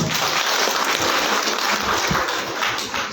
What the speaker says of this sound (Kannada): ಈ ಉದ್ಘಾಟನೆಗೆ ಕಾರಣಕರ್ತರಾದಂತಹ ಎಲ್ಲ JCಯ ಪೂರ್ವದರ್ಶಕರಿಗೆ ಒಂದು ದೊಡ್ಡ ಚಪ್ಪಾಳೆ.